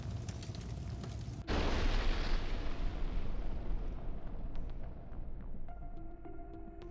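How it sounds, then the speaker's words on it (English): An ammunition depot blows up in a sudden heavy blast, followed by a long rumbling roar that slowly fades with scattered crackles and pops of secondary detonations, heard from a distance. "The epic explosion of the Ukrainian Armed Forces ammunition depot."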